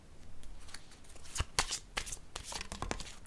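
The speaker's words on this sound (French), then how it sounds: "Je pense que je vais piger une carte rose." A deck of pink cards is shuffled and one is drawn, giving a quick run of crisp riffling and flicking card sounds, close and fairly quiet, with no talking.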